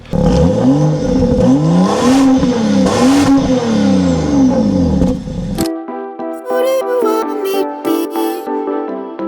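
A Mercedes GL SUV engine revs hard and surges as the car drives off on a hot, humid day, the loud whine rising and falling before cutting off abruptly into quieter clatter.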